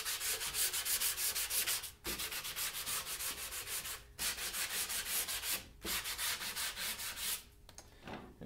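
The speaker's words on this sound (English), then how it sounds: "just get this black dirt or the char off this part, just the dirt, sand it a little bit" Sandpaper rubbing char and dirt off torched wood for a rustic flag, in long steady back-and-forth strokes broken by a few short pauses, loud and close with no speech.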